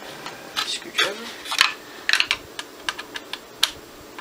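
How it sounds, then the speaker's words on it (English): Screwdriver driving a 3 mm screw into a Bronco model build: a close run of small, irregular clicks and ticks, some in quick clusters, with a voice nearby. "So just crank this baby on. Alright, screwdriver."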